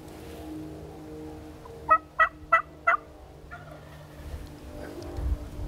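A wild turkey gobbles once nearby during an Oklahoma turkey hunt, a quick rattling burst of four sharp pulses, over a quiet outdoor background with faint low rumble.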